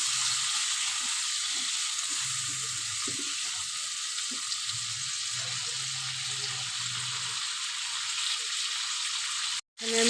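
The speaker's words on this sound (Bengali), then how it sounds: "দিয়ে আমি আলুটাকে বেশ ভালো করে ভেজে নেব" Potatoes fry with turmeric powder in a pan during simple home cooking, giving a steady, close, hissing sizzle with faint stirring knocks, broken by a brief cut near the end, with no talking.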